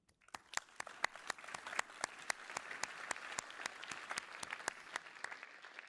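A conference audience in a cinema hall applauds steadily for several seconds, with sharp individual claps standing out over a continuous patter before it fades at the end.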